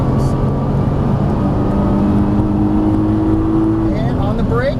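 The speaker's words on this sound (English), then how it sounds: "Full throttle all the way to those cones." A Nissan GT-R accelerating at full throttle on a racing track, a loud sustained engine roar climbing steadily in pitch before a shift near the end, close and dominant.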